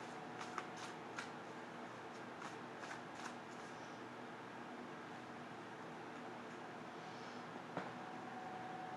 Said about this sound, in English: Feel like I need to shuffle now.